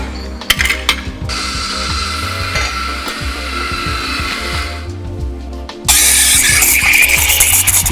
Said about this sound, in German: Wir mahlen den Kaffee immer frisch.